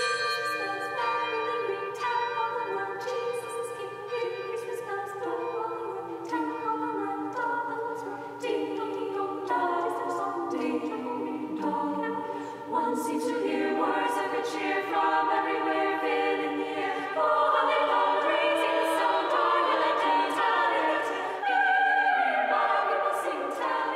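A sustained choral performance with layered voices and ringing, bell-like tones filling the whole stretch at steady, full volume.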